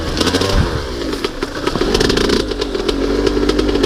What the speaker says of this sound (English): Driving through ponds.